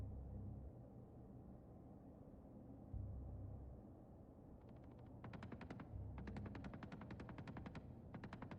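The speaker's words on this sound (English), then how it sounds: "Why do I hear gunfire?" Rapid bursts of automatic gunfire in the space game Star Citizen, faint and distant over a steady low rumble, with crackling volleys starting midway and repeating in short strings.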